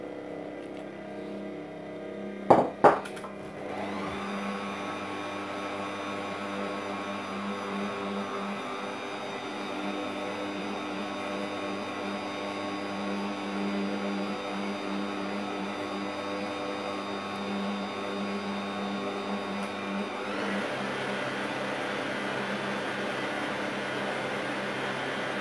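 A kitchen stand mixer kneads chocolate petit pain dough as water is added, its motor starting with a couple of sharp clicks then running steadily with a loud, continuous harmonic whir that shifts slightly in pitch partway through.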